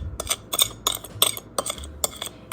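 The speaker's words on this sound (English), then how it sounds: "you just keep stirring it around" A utensil stirs food coloring into sugar in a bowl, giving a quick series of sharp clinks and scrapes in an uneven rhythm, close and fairly clear with no voices.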